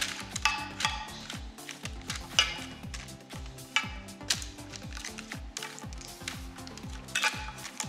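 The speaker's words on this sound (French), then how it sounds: "On va les mélanger pour qu'elles s'imprègnent." Ingredients being tossed with olive oil in a dish: soft, irregular scraping, tapping and clinking of a utensil against the container, fairly quiet and close, with no talk.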